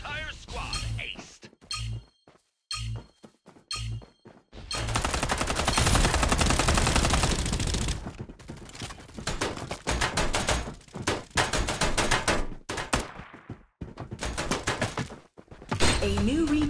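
Gunfire in the mobile game Farlight 84: short bursts of shots separated by gaps, then a long sustained stretch of heavy automatic fire, followed by more rapid bursts, loud and close.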